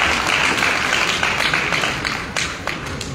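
Audience applause at an International Yoga Day celebration in a convention hall, a steady wash of many hands clapping that holds for a few seconds, then thins and slowly fades with a few scattered louder claps.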